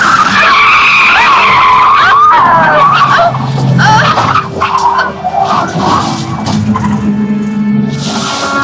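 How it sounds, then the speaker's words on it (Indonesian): A car speeding at high speed in an old Indonesian film: loud tire squeals and skidding with engine roar, sweeping across the scene, then fading into a mix of rumble and scattered clatter. "Ia emosi lalu memacu mobilnya dengan kecepatan tinggi hingga membuat tubuh Irma terpental keluar dari mobil."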